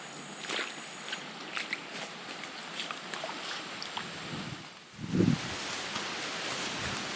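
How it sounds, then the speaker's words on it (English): Wind blows through trees along an old overgrown path at a conservation area, a soft steady rustle filling the background with a few brief louder gusts and a low thump partway through. "There's a wind coming through the trees."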